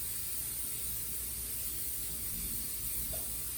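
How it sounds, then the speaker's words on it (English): Olive oil cooking spray hissing from a can into a skillet, a steady close broadband spray that holds for a few seconds. "I'm just gonna spray some Palm olive oil."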